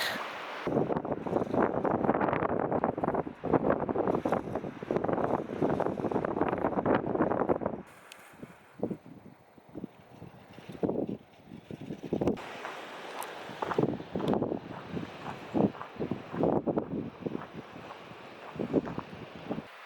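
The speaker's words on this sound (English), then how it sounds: "It's been super windy. Just getting blown all over the place." Heavy wind on a mountain hiking trail buffets the microphone in loud, rumbling gusts, easing briefly partway through before gusting hard again.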